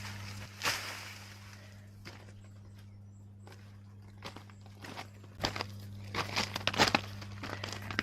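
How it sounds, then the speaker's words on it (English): Dry skin being peeled off a harvested loofah in a vegetable garden, soft crinkly tearing and crackling in scattered bursts over a steady low hum, close and quiet with no talk. "I cut this open and peel back the skin"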